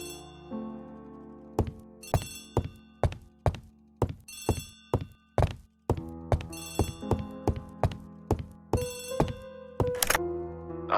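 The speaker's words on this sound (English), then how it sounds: "Poirot, the telephone." An old-fashioned telephone bell rings in repeated bursts, each burst made of rapid metallic strikes, loud and near in a quiet room with no talk.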